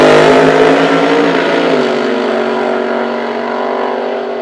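Supercharged gasser drag racing cars at a Nitro Nationals drag strip event at Toronto Motorsports Park, a loud engine roar that starts strong and eases into a steady, slowly fading drone with no voices.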